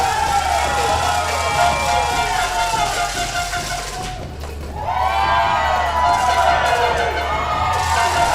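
Pro wrestling crowd at an Enigma Pro Wrestling event cheering as a wrestler works them up, a sustained roar that dips briefly midway and swells again, with a commentator talking over it.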